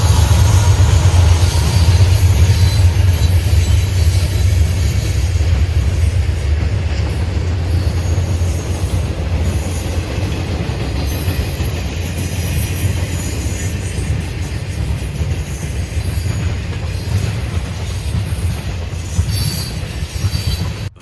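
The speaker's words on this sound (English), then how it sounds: "This one was a unit gravel train, headed eastbound" An eastbound unit gravel freight train rolls past close by, a loud, continuous rumble of heavy cars on the rails with wheel squeal and a hissing rush that stays strong from start to finish.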